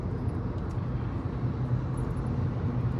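Steady low road and engine hum inside a Volkswagen Polo 1.2 TSI with DSG gearbox while driving, a quiet cabin with constant muffled rumble and no talking.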